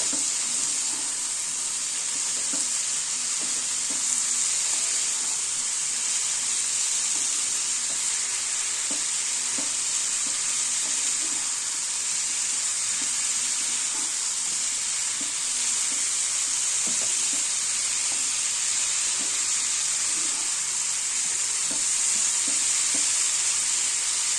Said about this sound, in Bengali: এবার আমি এই ভেজে রেখে দিয়েছিলাম ব্রোকলি, আলু আর গাজর, এটা দিয়ে দিচ্ছি। ভালো করে নেড়ে নেব।